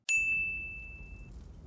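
A single bright bell ding, the shame bell from Game of Thrones, strikes once and rings with a clear sustained tone for about a second over a low rumble before fading.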